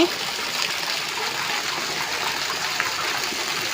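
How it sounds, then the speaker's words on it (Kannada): A dense, even hiss of heavy rain pouring continuously, close and moderately loud, with no voices. "ಇವಾಗ ನೋಡಿ ಯಾವ ಥರ ಮಳೆ ಕುಟ್ತಾ ಇದೆ"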